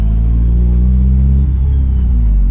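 A car engine rumbles steadily at close range, its low drone shifting slightly as it revs while driving.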